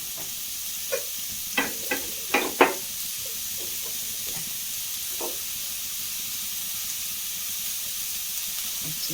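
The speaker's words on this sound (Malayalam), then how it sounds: "നന്നായി ഇളക്കി ഒന്ന് വാട്ടിയെടുക്കാം." Vegetables sautéing in a pan for a breakfast or dinner dish, a steady soft sizzle broken by several sharp scraping stir strokes early on and lighter taps later, close and alone with no talking.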